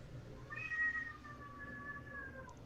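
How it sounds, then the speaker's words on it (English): A cat meows in one long, drawn-out wavering call lasting over two seconds, moderately loud and close, with no one speaking. "I hear a cat."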